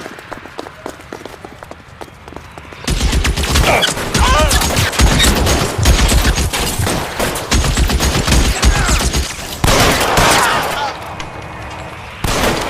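Heavy gunfire erupts in a shootout in the video game L.A. Noire, with dense, loud volleys of shots starting a few seconds in and continuing almost nonstop, rising again near the end, while voices talk underneath.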